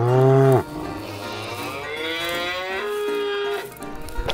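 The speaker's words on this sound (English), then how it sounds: "The country cows are grazing here." Cows on a farm moo in long, loud, drawn-out calls, one after another, close by with no talking.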